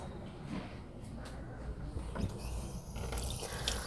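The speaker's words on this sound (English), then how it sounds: "So now I am going to go and wash my hands." Running water from a tap splashes steadily as hands are washed with chlorhexidine scrub solution at a sink, a soft continuous wash with faint drips and small handling sounds, no talking.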